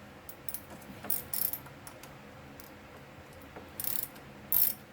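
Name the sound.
ratchet with 5/16 socket on snowblower carburetor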